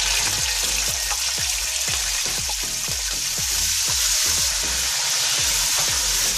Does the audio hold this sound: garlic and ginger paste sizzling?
yes